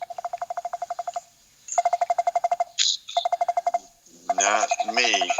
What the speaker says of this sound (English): Somebody's having some fun with the phone.